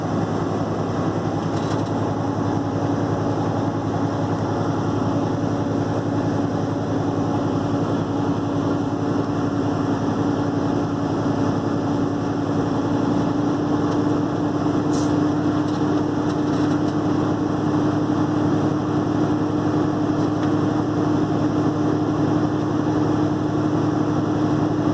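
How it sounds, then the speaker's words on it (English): A truck engine idles at raised RPM inside the cab while air pressure builds, giving a steady, continuous drone with no change over the whole stretch and no voices. "I'm going to put my RPMs between 10 to 15 RPMs here and just wait for my pressure to build to 125."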